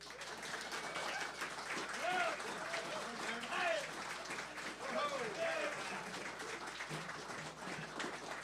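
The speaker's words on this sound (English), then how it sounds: "Give a big round of applause for Fiacara O'Regan" Steady applause from an audience at an Irish traditional music festival in St. Louis fills the space, with cheers and a few voices rising over the clapping throughout.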